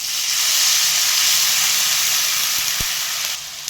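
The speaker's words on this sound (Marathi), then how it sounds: "आता पाणी वतायचं." Water poured into a hot pan of roasted semolina bursts into a loud, hissing sizzle up close, holding steady and then tapering off after a few seconds.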